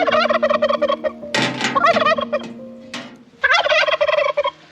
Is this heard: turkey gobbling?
yes